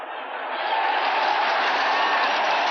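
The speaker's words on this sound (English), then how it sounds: "the crowd responding to the official indication of that Jet recovery" Crowd in a football stadium at a 1981 Baltimore Colts at New York Jets game roars after a Jets fumble recovery, a dense, distant wash of cheering that swells in the first half second and then holds steady.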